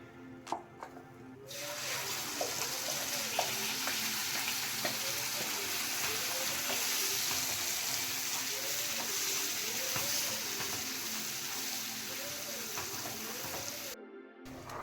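Ground masala paste for paneer masala fries in a pan with a steady, dense sizzle that holds for most of the stretch, and light stirring scrapes recur now and then under it.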